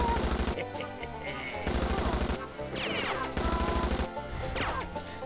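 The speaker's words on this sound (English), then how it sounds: "Shooting chickens with a machine gun" A machine gun fires rapidly in bursts while shooting chickens in the Wii game Chicken Shoot, with several crashing bursts over a steady game soundtrack.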